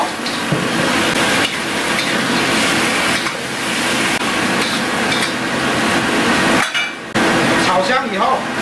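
Chicken feet and turtle pieces stir-fried in a wok with shallots, garlic, ginger, rice wine and soy sauce, a loud continuous sizzle broken by scraping and clanking of the spatula against metal.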